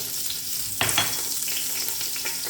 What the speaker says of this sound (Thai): กระเทียมชี เห็ดหอม ผัดให้เข้าหอมนะคะ